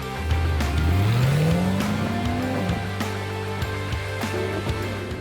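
A 2021 Chevy Corvette Stingray Z51 is driven on the road, its engine revving up in a rising pitch and then holding a steady, loud drone that runs unbroken.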